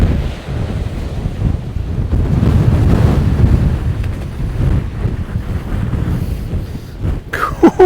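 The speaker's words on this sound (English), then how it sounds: "+60 winds are blowing me all over the place." Strong storm wind roars and buffets the microphone on the beach at Walcott, with surf rumbling beneath in continuous loud gusts and no talking.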